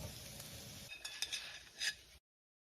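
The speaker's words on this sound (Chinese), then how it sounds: "培根按提利昂的吩咐煎焦一点，煎到油脂渗出，两面呈焦褐色后就可以出餐了。" Bacon frying crisp in a pan: a soft sizzling hiss followed by several scraping, clinking turns of a utensil against the pan, close and moderately quiet, then the sound stops abruptly.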